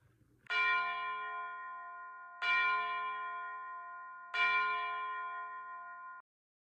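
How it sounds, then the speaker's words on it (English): A church bell tolls three times at an even, slow pace, each strike ringing out and fading before the next; no voices. "I hear wedding bells"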